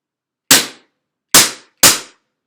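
Stark Arms S17 airsoft pistol fired in single shots: three sharp, loud, close cracks, the first alone and the last two in quicker succession, each with a short decaying tail, with no speech.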